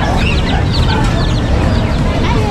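Bantam chickens and chicks cluck and peep repeatedly at a busy outdoor pet market, their calls close and layered over a dense, constant crowd din.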